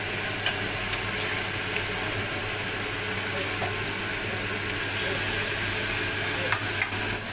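Vegetables being stirred in a hot pan for a spicy Thai drinking snack, with a steady loud sizzle and frying hiss and occasional soft clinks of stirring running throughout.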